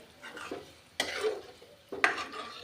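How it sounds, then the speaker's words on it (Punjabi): Cooked moth dal is stirred into a sizzling oil tempering in a pot: faint, soft scraping strokes of a spoon, three or four separate swishes, over a light sizzle. "ਦਾਲ ਐਡ ਕਰ ਦਾਂਗੇ ਮੂਠਾਂ ਦੀ ਕੱਲਾ ਨਮਕ ਪਾ ਕੇ ਬਣਾ ਲਈ ਸੀਗੀ ਦਾਲ ਚੰਗੀ ਤਰ੍ਹਾਂ ਕਰ ਦਾਂਗੇ ਮਿਕਸ"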